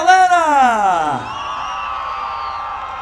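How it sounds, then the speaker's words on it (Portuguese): A crowd at a festa junina quadrilha contest in Ceilândia, DF, lets out a loud rising whoop and cheer that sweeps upward, then settles into a sustained shouting roar. "Cadê o grito da galera?"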